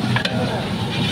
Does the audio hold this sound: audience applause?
no